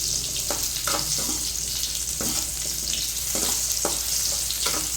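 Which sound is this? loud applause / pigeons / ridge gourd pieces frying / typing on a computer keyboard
ridge gourd pieces frying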